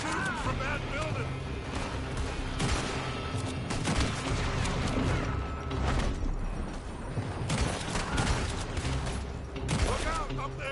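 Gunfire in the Red Dead Redemption 2 video game during a firefight at a building, with repeated shots and rattling bursts throughout, mixed with shouting voices and dense action noise.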